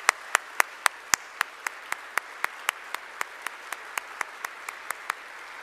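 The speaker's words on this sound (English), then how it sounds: "join me in thanking, with a very large hand of applause, for our CSC department head, Dr. Greg Rothermel." Clapping for the computer science department head at a fall diploma ceremony comes as a sharp, evenly spaced run of single close claps, about four per second, over a quiet background.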